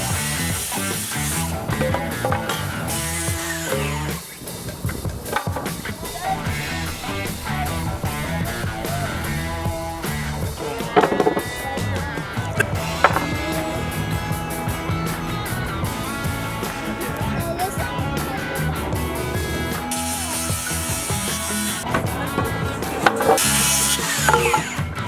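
A saw cuts through wood legs for a blacksmith forge stand with continuous rasping, grinding strokes that run loud and close throughout, briefly easing near the middle before resuming.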